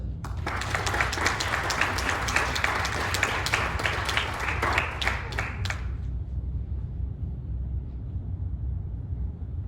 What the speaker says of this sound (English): please give a round of applause for Francis Wolverton.